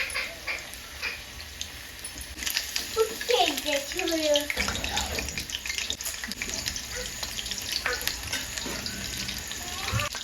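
Cornflour-coated chicken kebab pieces fry in hot oil, giving a steady, fairly loud sizzle that runs throughout with some faint background sounds mixed in.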